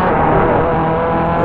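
A GT race car engine in a racing video game holds a loud, steady high-speed drone, close and unbroken with no other sounds.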